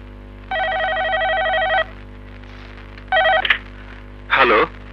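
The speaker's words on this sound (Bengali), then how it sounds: "ফোন ধরতে এত দেরি হলো যে?" A telephone rings with an electronic trilling bell, one long burst, then a shorter one and a brief third, loud and close over a low steady hum.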